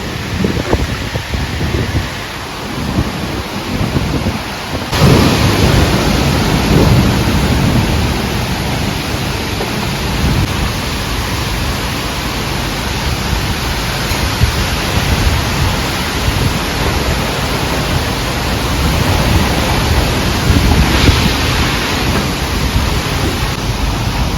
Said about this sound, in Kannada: ಸಿಕ್ಕಾಪಟ್ಟೆ ಗಾಳಿ ಮಳೆ ಆಯಿತಾ